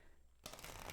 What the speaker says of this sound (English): We'll just do normal shuffling.